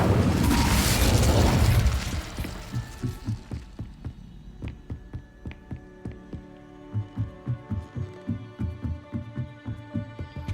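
A fire spell being cast in a Hogwarts wizarding video game: a loud whooshing burst at the start, followed by a run of rhythmic low thumps and resonant pulses that carries on steadily.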